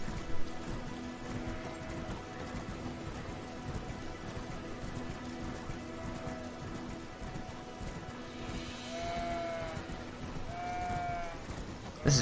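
Sheep bleating in Elden Ring: a few short, faint bleats rise over soft rain and steady outdoor ambience.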